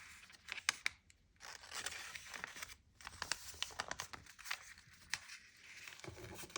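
Paper being folded and creased into a handmade envelope without glue, giving repeated crinkling and crackling rustles in short bursts, close and fairly quiet with no talking.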